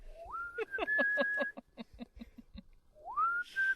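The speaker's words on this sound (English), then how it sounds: "So that would be one whistle solo" A whistled melody solo from Final Fantasy music, performed as part of the Distant Worlds concert program, rises in clear pitch glides over a rhythmic plucked accompaniment and returns near the end.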